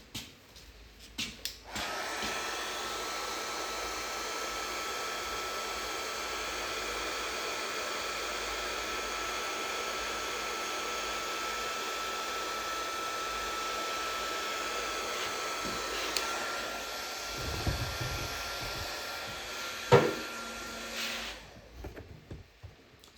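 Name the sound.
heat gun drying clear coat on pinball playfield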